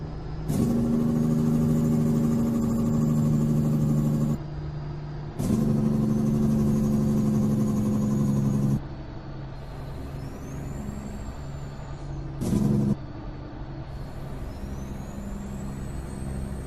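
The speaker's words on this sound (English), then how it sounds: "Use a little bit of that engine brake." A Peterbilt 357 heavy-haul truck in American Truck Simulator gives a loud, steady engine-brake drone in repeated bursts of several seconds each, separated by quieter idling engine hum, with a brief sharp burst near the end.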